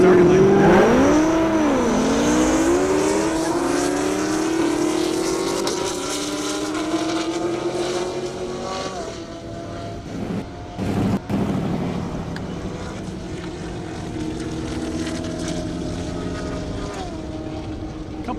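A 17 Camaro and a ZL1 Camaro launching side by side in an airport drag race, engines screaming through rising gear sweeps before fading into the distance, with a distant drone lingering afterward.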